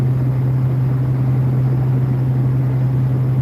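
A car engine cruises on the road at steady RPM with a manual gearbox, making a constant low drone and road rumble from inside the cabin, unbroken and without speech.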